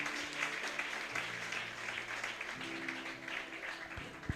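A church congregation applauds in a dense, sustained wash of clapping that goes on throughout, with a low held musical tone underneath.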